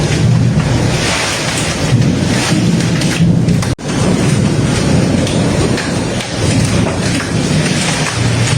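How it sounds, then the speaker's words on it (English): A typhoon pounds a Vietnamese city with a constant heavy roar of rain and wind, with rumbling thunder and a brief sharp dropout partway through, loud and continuous with no talking. "the constant roar of the storm filled the air"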